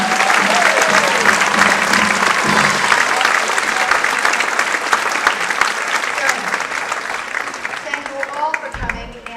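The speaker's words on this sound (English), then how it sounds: "A round of applause for everybody." Enthusiastic theater audience applause, loud and dense clapping sustained for several seconds with cheers and voices rising through it before tapering off near the end.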